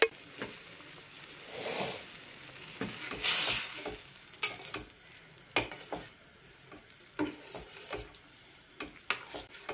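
Fish curry stirred in a pan with a steady sizzle under scraping spoon strokes, a few sharper clinks and bursts of frying spread through the stretch, no voices.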